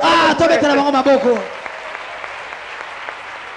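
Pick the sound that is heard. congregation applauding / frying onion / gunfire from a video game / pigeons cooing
congregation applauding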